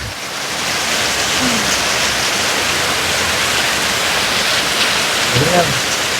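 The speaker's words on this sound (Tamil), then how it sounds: "அந்த அளவுக்கு அடி பொழிஞ்சிட்டு இருக்கு மழை" Heavy monsoon rain pours in Kozhikode, a dense, loud and unbroken roar of water that fills the whole stretch, with faint brief vocal sounds near the end.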